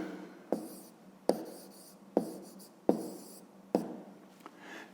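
Pen writing on paper during a fifth-grade geometry exercise, five distinct scratchy strokes spaced about a second apart, close and clear with no talking.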